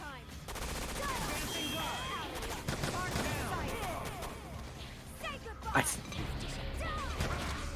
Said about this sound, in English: Jill just called an airstrike on his ass.